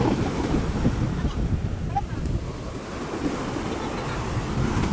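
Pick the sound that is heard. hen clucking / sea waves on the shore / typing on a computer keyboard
sea waves on the shore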